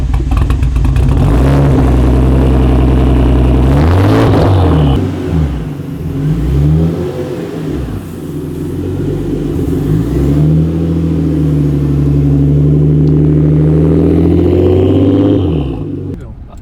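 A car engine revs loudly and steadily, its pitch rising and falling in repeated swells as the vehicle pulls away, close and sustained with no talk.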